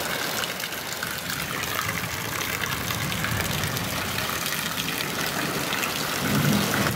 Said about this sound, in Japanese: いやー土砂降りすごい。